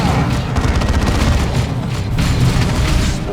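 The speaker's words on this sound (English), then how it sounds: "Spore mines destroyed." Spore mines burst in the Dawn of War II battle game, a dense run of booming explosions and crackling gunfire rolling on without pause.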